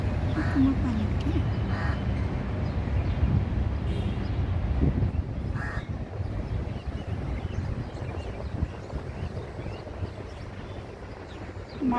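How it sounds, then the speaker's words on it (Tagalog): Birds, including pigeons, call in an outdoor park in Sharjah, United Arab Emirates, with occasional caws rising over steady wind noise and low background rumble, and a person talking nearby. "Tinakbuhan ako ng mga ibon."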